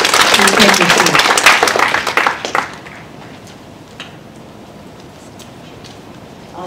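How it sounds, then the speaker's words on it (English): An audience at a business summit panel applauds loudly, and the dense clapping fades out after about two and a half seconds, leaving a quiet room with a few stray sounds. "Let's give a nice round of applause to them."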